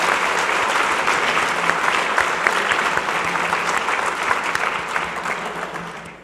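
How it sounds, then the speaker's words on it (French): Sustained applause from an audience at a French-language ceremony, dense and steady clapping throughout, tapering slightly at the very end. "Une bonne main d'applaudissements"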